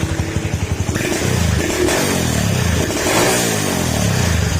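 A nearby Suzuki TMX 155 motorcycle engine, misfiring while warming up, chugs unevenly at idle, then revs into a loud, rough, sustained roar with popping from the exhaust.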